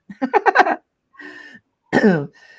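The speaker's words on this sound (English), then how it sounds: "So excuse the coughing." A voice coughs in a quick burst of several harsh coughs, then pauses and gives two more rougher coughs, close to the microphone.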